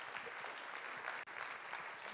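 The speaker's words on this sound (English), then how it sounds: "A round of applause" A conference audience at a startup pitch event applauds, an even, moderately close spread of many hands clapping that keeps going with only a momentary break.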